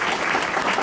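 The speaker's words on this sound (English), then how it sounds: "So another round of applause for EcoWise." An audience claps together in a dense, steady burst of applause, brief and close.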